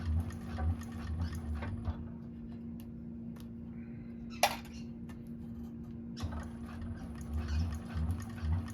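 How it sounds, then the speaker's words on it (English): A cylinder-arm sewing machine stitches over cotton fabric and back stitches, giving short bursts of close, rapid needle chatter at the start and end with a quiet stretch and a sharp clack between. "you want to come up here and sew over this and go up a little bit, and then back stitch"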